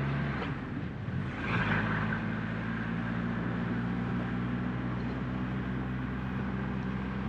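A Triumph Rocket 3 motorcycle engine idles with a low, tractor-like throb, steady and close, following a brief rise in revs near the start, with no talking.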